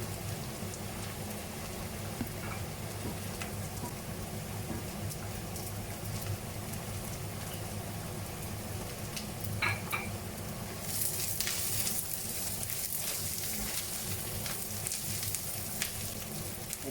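Chicken sizzles and fries steadily in a pan as a tablespoon of soy sauce goes in, a continuous crackling hiss that swells brighter and louder toward the end, with no talking.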